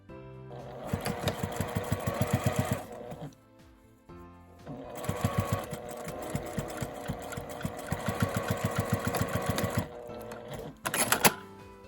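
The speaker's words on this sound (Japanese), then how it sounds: "返し口のところは内側に折り込んで端ミシンをかけます。" A sewing machine edge-stitches a tweed tote bag in two long rapid stitching bursts with a short pause between, then a brief final run; close and clear.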